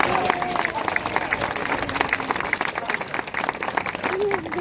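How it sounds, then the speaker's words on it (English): Audience at a sea lion show in Flamingo Land claps for the animal's trick, a loud continuous patter of many hands with cheering voices and crowd noise mixed in. "If he gets this one, give him a clap"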